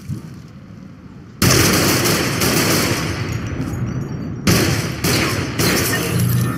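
Rapid, loud bursts of gunfire crackle almost continuously, with brief gaps and a sharp renewed volley near the end, like automatic weapons in a video game.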